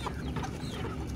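Chickens of harvest age cluck and murmur continuously on an Indonesian poultry farm, a dense, moderately faint flock chorus with no talking.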